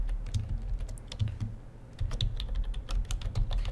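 Typing on a computer keyboard while writing an HTML file, a steady stream of close, crisp key clicks with brief pauses, no voices.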